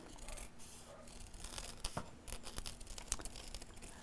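Scissors snipping through fabric while cutting out a simple crown shape for a dress-up costume, a series of quiet, close snips and rustles of cloth with small clicks scattered irregularly.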